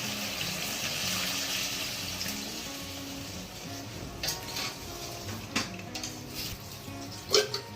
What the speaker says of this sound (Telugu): మునిగేదాకా వాటర్ వేసుకుందాం మనం.